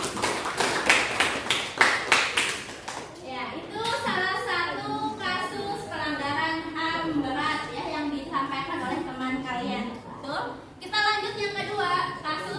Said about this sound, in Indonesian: Tepuk tangan dulu semuanya untuk Enzi.